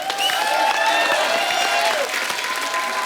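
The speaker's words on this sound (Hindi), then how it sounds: "जोरदार तालियां" Studio audience applause on The Kapil Sharma Show, a Hindi TV comedy show, greeting a singer and a lyricist: dense, steady clapping for the whole three seconds, with some cheering and tonal sound mixed in.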